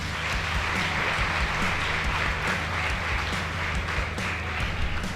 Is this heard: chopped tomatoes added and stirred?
no